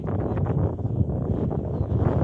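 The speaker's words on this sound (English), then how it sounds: "But it is very windy." Strong wind on the beach at Mablethorpe buffets the microphone in a continuous low, muffled roar with gusty surges and no clear voices.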